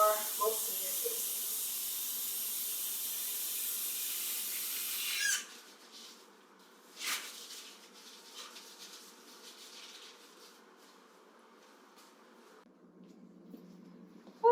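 Warm water runs steadily into a basin for a patient's bed bath, a bright continuous hiss for about five seconds before it stops. Quieter handling noises and faint room sounds follow.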